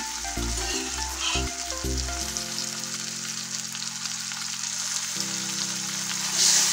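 Boiled lentils hit hot oil with fried tomatoes in a pan, giving a steady, close sizzle and crackle that continues throughout, with a low tonal hum beneath it.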